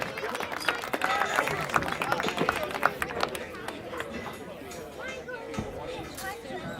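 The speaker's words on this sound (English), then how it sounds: "Big round of applause for Zach on the stones" A crowd applauds strongman competitor Zach Isley after his stones event at an outdoor strongman and strongwoman contest, with dense clapping that gradually thins amid chatter and cheers.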